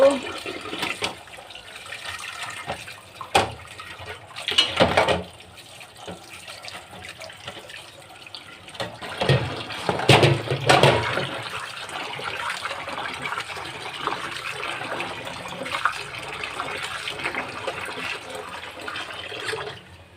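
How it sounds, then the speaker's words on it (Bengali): Running water splashes as tengra fish and a boti knife are washed, with bursts of gushing and sloshing that rise and fall over a quiet background. "এখন মাছগুলো ধুয়ে নিব, বটিটাও ধুয়ে নেব"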